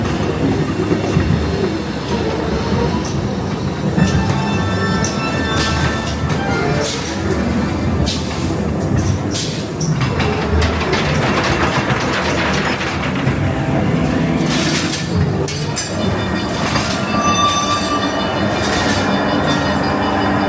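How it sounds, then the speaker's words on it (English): A small tube train ride at Blackpool Pleasure Beach amusement park rumbles and clatters along its track at night, with wheels squealing at points and rhythmic clicks, close by and fairly loud. "Watch out for the tube train."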